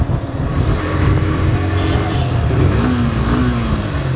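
Yamaha FZ-S V3 fuel-injected motorcycle engine revving steadily and close, a loud continuous mid-range drone with a slight rise in pitch near the end, no talk over it.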